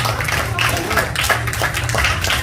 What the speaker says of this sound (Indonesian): Beri tepuk tangan yang luar biasa Bapak Ibu buat orang-orang yang sangat luar biasa.